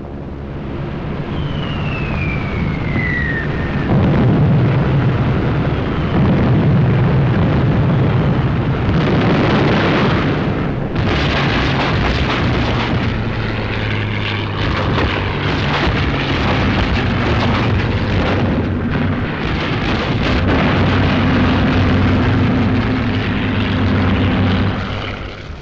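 Explosions from bombing and air attacks in a World War II desert battle in Tunisia, a dense, loud, continuous roar of blasts with a rising whistle early on and aircraft engine drone throughout.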